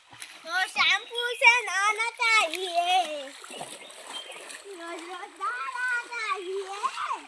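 Rani splashes about in bathing water, with lively splashes mixed under near, overlapping voices of people talking and exclaiming throughout.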